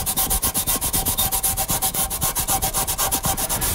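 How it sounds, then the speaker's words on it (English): Heavy duty Scotch-Brite scrubbed briskly over rusty rear brake discs on a Range Rover Sport, a fast steady rhythm of close, loud rubbing strokes with no talk. "So we brush these for a couple of minutes just to clean them up. I'm using some heavy duty Scotch-Brite."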